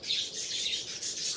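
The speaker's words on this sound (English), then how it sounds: "I don't know what's wrong with those birds." Birds chirping and tweeting in dense, steady overlapping calls close by, with no voices.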